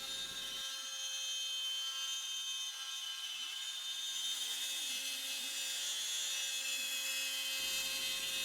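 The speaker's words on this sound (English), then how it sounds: "Lined up the bit with the mark, and kicked off the carve." A CNC router carving walnut bowl ribs, a continuous high-pitched spindle whine with a steady cutting hiss that holds at an even level throughout.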